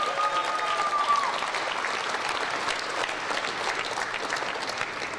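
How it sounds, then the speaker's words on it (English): An audience at an NFL Draft countdown event in Green Bay claps steadily in a sustained round of applause, moderately loud and even throughout, with a brief tone near the start. "How about a round of applause for all of them?"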